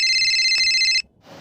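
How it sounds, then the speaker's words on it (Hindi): A loud electronic phone ringtone plays steadily for about a second, then cuts off abruptly into near silence. "छाजा फोन था अचनि?"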